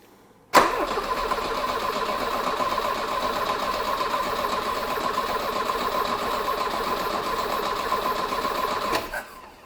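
A Volvo 240 with the Redblock engine and twin carburettors cranks on the starter with no choke, a loud steady whirring churn lasting about eight seconds that cuts in abruptly and stops with a brief flutter.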